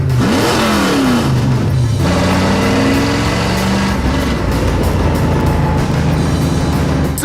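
A street stock car with a clutchless Jericho 4-speed revs hard and loud up close, its engine note climbing and dropping through shifts, then settling into a sustained rumbling cruise.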